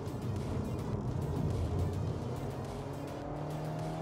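A 2022 Audi Q5 S-Line with the EA888 engine and Quattro four-wheel drive accelerating down a race track straight, a loud, steady engine drone from inside the cabin, rising slightly in pitch, with no talk.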